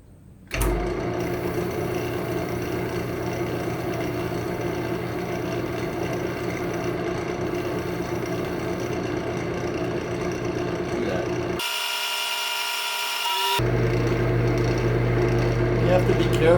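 A power tool spins a polishing attachment against smooth metal, a steady whirring motor drone that drops out briefly, then resumes slightly louder.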